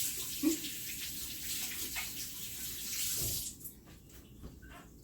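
Water runs from a kitchen tap for hand washing during bread baking, a steady broadband rush for several seconds that cuts off partway, leaving quieter room sounds.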